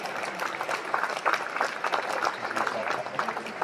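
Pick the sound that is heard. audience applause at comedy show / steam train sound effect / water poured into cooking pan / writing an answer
audience applause at comedy show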